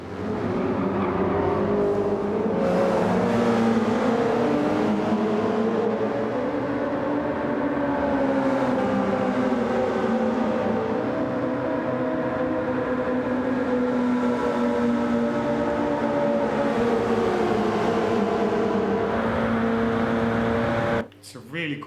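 Porsche 919 race car in Gran Turismo 7, its engine droning steadily and rising and falling in pitch through the gears for a long stretch, with a voice talking over it.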